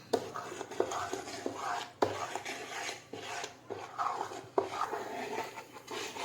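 A spoon stirs dhokla batter with salt and carom seeds in a bowl, giving a steady, quiet scraping and rubbing rhythm with periodic knocks against the sides.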